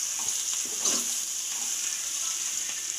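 Leaf greens in a pan are stirred as the moisture cooks off, giving a soft steady sizzle with faint scraping strokes of the spoon and a quiet hiss throughout.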